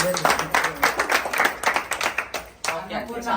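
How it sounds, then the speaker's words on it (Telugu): An audience claps together at a public gathering, giving a dense run of sharp hand claps that thins out toward the end, with a voice faintly underneath. "అందరు క్లాప్స్ కొట్టండి మేడం."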